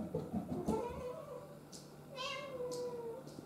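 A pet cat meows several times at close range, drawn-out tonal cries with breathy, scratchy bursts, against a quiet room.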